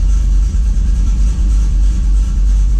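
A 5.3 LS V8 with a full muffler delete through straight 3-inch pipes and Holley Sniper EFI idles close and loud, a steady deep rumble with a slightly uneven lope throughout.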